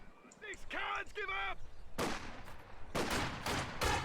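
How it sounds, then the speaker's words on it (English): Soldiers garrisoned in a house exchange gunfire in Company of Heroes 2, with short sharp bursts of shots near and loud, preceded by a burst of in-game unit voice chatter. "2 guys in the house firing at 3 models because there's only 2 windows"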